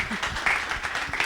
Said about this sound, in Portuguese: Salve de palmas para a nossa coordenadora Vanessa!